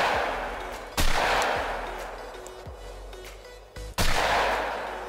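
A shotgun firing slug rounds in the hunting game theHunter: Call of the Wild lets off three loud, sharp booms spaced a few seconds apart, each decaying into a rolling echo.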